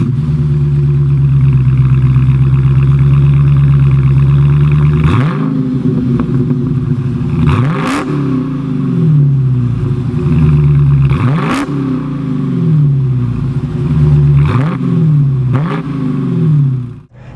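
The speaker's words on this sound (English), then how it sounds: "that insane baritone manly exhaust note that just blares every single time you hit the gas" A Dodge Challenger R/T Scat Pack with a naturally aspirated engine accelerates with a loud, deep exhaust roar, climbing through several revs and gear changes in repeated surges before easing off at the end.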